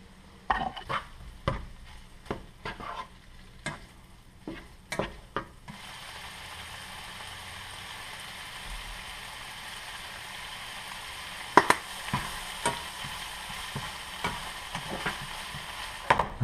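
Beef pieces brown in a hot pan, with a steady sizzle that swells once the meat goes in, broken by sharp clicks and scrapes of a utensil against the pan.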